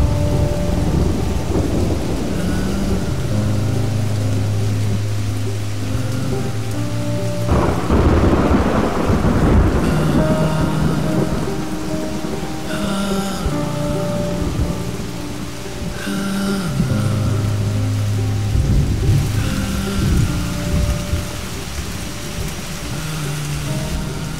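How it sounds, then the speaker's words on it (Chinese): A thunderstorm brings heavy downpour: a constant rain hiss with deep thunder rumbles and a loud crack midway, heard alongside a sustained tonal music bed. "我就说吧，肯定会是倾盆大雨"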